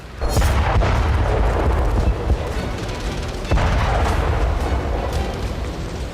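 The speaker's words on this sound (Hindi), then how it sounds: "ओडेसा में रूस ने ऑनिक्स मिसाइल से अटैक किया।" Heavy, rumbling explosions from a Russian Onyx missile strike on Odesa roll through continuously, with two sharp blasts standing out, loud and close, with no voices.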